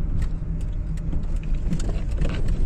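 A car rolls slowly into a parking spot near a reservoir, its engine idling low and steady with a few light clicks and rattles close by, and no talk over it.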